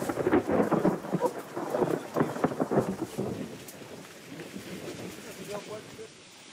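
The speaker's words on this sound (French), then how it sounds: "L'orage enfin passé" Rain falls steadily while low rumbles of thunder roll through, loud at first and gradually easing off toward the end.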